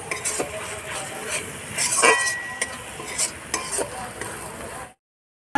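Spices are stir-fried in a pan, with a loud close sizzle and repeated scraping and clinking of a spatula on the pan, ending abruptly in silence.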